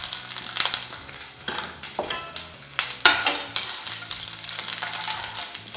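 Diced onions and capsicum frying lightly in oil, crackling sizzle punctuated by repeated scraping stirs and sharp spatula strokes, close and fairly loud, no talking.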